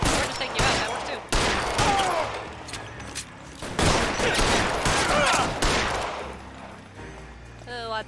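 Gunfire in the video game LA Noire, repeated loud bursts of shots in clusters across several seconds, close and dense, fading into quieter background toward the end.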